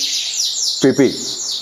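A caged canary keeps up a steady high, twittering song throughout, with a brief low voiced sound breaking in near the middle.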